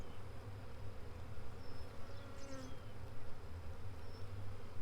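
A close, steady hum of many honey bees buzzing around comb in a swarm trap, with individual bees droning in and out.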